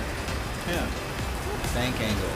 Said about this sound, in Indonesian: Oke, kondisinya hujan.